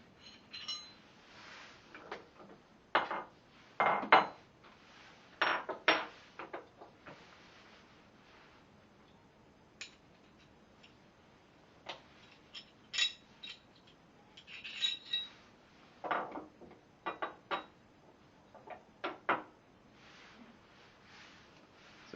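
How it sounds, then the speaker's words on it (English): Light metallic clicks and clinks from a pistol being taken apart to pull out its barrel, sounding as scattered sharp taps with quiet gaps between them, close and fairly faint, with no talking. "let's go ahead and just see if I can take the barrel out of here"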